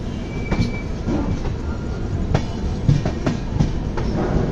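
A train rumbles steadily along the rails near Itarsi, Madhya Pradesh, with rhythmic clacks of wheels over track joints and faint metallic squeals, continuous and close.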